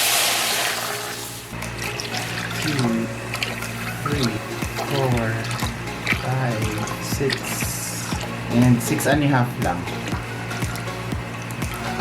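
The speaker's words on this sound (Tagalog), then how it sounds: "Yung first step po natin, magpakulo lang tayo ng tubig." Water pours into a pot to be boiled for creamy coffee jelly, a steady rushing hiss and splash that runs under continuous nearby talking, with some clinks of kitchen handling.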